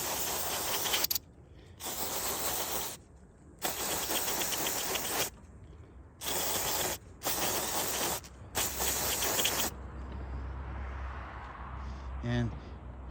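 Cleaner spray blasting onto the mass air flow sensor of a 2015 Ford Escape, loud close hissing bursts of a second or two each, repeated about six times with short pauses, then quieter background with someone talking.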